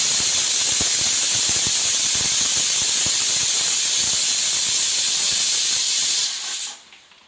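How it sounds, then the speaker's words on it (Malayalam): A pressure cooker cooking lentils, potato and onion lets out a loud, steady jet of steam hiss that holds evenly for several seconds before cutting off abruptly near the end. "പിന്നെ കുക്കറിനകത്ത് കുറച്ച് പരിപ്പും ഒരു ഉരുളക്കിഴങ്ങും ഒരു ഉള്ളിയൊക്കെ ചേർത്ത് വേവിക്കാൻ വെച്ചിട്ടുണ്ട്."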